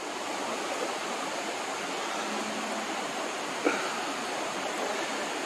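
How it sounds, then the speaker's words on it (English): Floodwater rushes downhill along a trail near concrete during a catastrophic flood, a steady, dense roar of moving water throughout with one faint tap partway through. "there's all the water there just rushing downhill"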